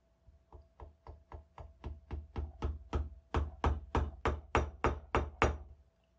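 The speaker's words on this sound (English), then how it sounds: "Then I can hammer the dowel all the way." Steady hammer blows drive a wooden dowel into a New York State Militia rolling block rifle, about fifteen evenly spaced knocks that grow louder and sharper toward the end, close by with no talking.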